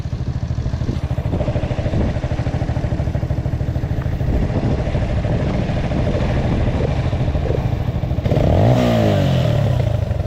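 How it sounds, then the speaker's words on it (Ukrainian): A Delta 50cc moped engine idles steadily and close, with a fast even putter. Near the end a brief rev rises and falls. "Бачите, що в цій дельті, що в цій дельті холості стабільні."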